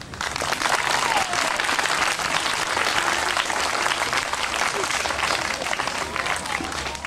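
Council members and parents applaud at a 1993 one-day municipal council election results event in Saint-Basile-Le-Grand, a dense, steady wash of clapping filling the room throughout, with faint voices underneath.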